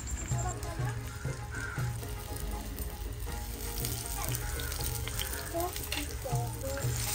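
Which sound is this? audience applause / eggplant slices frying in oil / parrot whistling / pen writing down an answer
eggplant slices frying in oil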